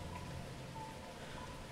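Heavy rain pours as a steady, dense hiss with a faint low rumble, constant and even throughout, no voices.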